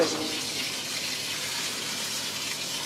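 Tap water runs steadily into a sink while chickpeas are rinsed, a continuous close gush of splashing water with no voices.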